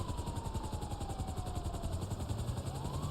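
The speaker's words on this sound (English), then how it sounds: "Kirsten, he's getting the helicopter." A helicopter in the video game GTA Online drones with a steady rotor thrum and engine hum, moderately loud and continuous throughout, with no speech.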